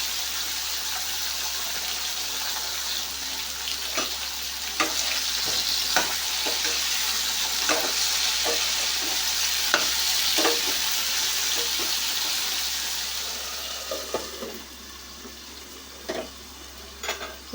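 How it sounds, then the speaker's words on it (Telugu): Brinjal karam curry cooking in a pan, heard as a steady sizzle with repeated scraping and tapping strokes of a spoon while it is stirred, the sizzle easing toward the end; no one talks. "సో ఒక 2 నిమిషాలు మూత పెట్టేసిన తర్వాత మళ్ళీ ఒకసారి కలుపుకోవాలి."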